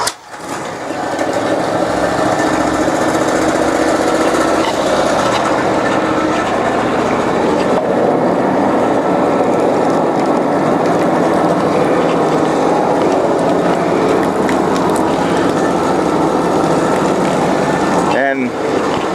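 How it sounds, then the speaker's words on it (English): A twin-engine hot and cold water trailer sewer jetter's motor fires up and runs steadily, a loud continuous mechanical drone with rattling texture that holds evenly for nearly twenty seconds. "Now you're going to open up your valve line here and start the motor."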